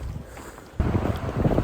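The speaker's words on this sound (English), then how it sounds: "It's super windy" Strong wind gusts roar steadily across the microphone on a mountain trail up Reyes Peak in Los Padres, a loud low rumble that surges harder partway through.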